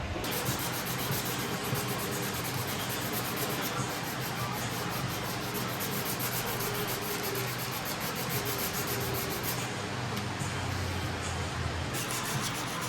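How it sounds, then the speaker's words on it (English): Car wheels being sanded down by hand with sandpaper before priming and painting; a steady, continuous close-up rubbing and scraping hiss runs throughout without pause. "We're in the process of currently sanding these down, primering them, and then spraying them with a color."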